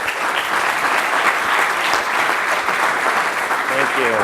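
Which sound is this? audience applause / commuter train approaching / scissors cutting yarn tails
audience applause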